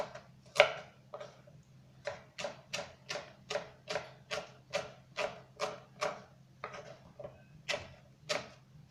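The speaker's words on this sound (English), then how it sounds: "so we will just slice this very thinly" Knife slicing vegetables thinly on a board for a vegetable salad, a steady run of about fifteen crisp, close chops in an even rhythm with no talking.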